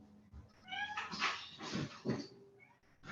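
A pet cat wanting out of a room meows repeatedly and insistently close by, several plaintive cries running together over a few seconds.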